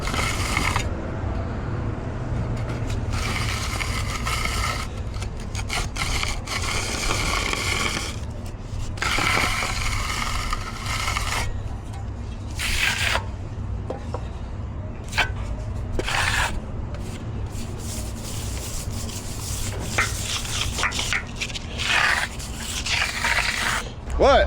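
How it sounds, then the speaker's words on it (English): A trowel edge finishes concrete on a restaurant construction project, making repeated close scraping and rasping strokes in uneven bursts over a constant low background rumble. "And then we'll come in with the edge of the trowel, give her a good finish."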